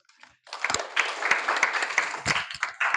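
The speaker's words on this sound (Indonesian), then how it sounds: "Oke, tepuk tangan." A short round of hand clapping from a small group starts after a brief pause and continues at a moderate volume.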